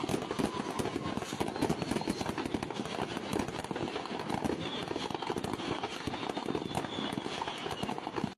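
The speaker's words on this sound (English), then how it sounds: "loud explosions echoing through the night as the fireworks continuously set off" Fireworks go off at night from a burning lorry: a dense, continuous barrage of rapid crackles and sharp bangs, heard from a distance and without letup.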